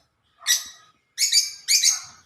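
African lovebirds give three short bursts of high, bright chirping close by, each burst a quick rapid cluster separated by brief silences.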